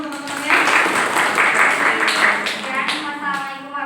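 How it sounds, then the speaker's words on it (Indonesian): Classroom applause for classmates, a burst of clapping from a group of students that starts about half a second in and continues steadily to the end, with some voices mixed in. "Kasih tepuk tangannya untuk teman-temannya."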